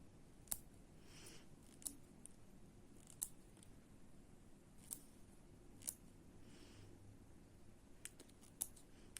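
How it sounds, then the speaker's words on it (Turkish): Scissors snipping needle lace threads, a series of sharp, faint, close clicks spaced a second or so apart over a quiet background. "Hepsini kesiyorum pırpırlarımı."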